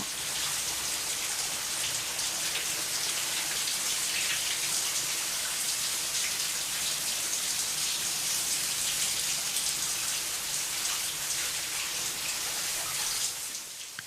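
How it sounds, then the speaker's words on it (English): Shower water runs in the shower scene of the film Psycho, a dense, continuous hiss of spray falling on a surface, steady and close for the whole stretch before easing slightly at the end. "The shower is heard throughout the entire sequence."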